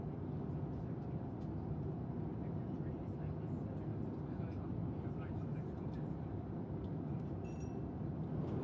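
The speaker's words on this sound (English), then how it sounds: "The plane has just started to descend." Steady broadband drone of a Finnair airliner cabin during descent, a continuous low engine and airflow rumble filling the space, with faint clinks and distant murmured talk beneath it.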